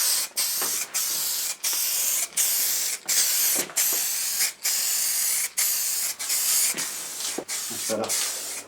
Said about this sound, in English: When you start a can, you get a lovely smooth spray action, as you can see.